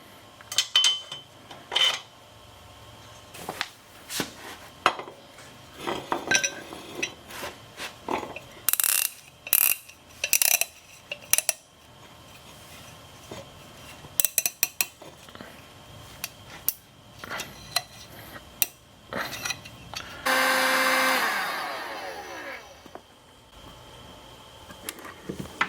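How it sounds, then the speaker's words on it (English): A ratchet clicks in repeated bursts while a jar bracket is bolted onto a Mercedes diesel engine, with metallic handling sounds of tools and parts between strokes, close up and with no talking. "I'm just going to bolt this here"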